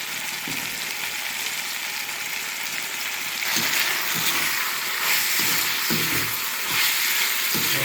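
Ginger garlic paste fries in a hot pan with a steady, close sizzle that grows louder partway through, with a few soft stirring knocks and no talking.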